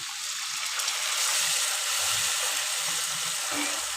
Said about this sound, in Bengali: সামান্য পরিমাণ পানি দিলাম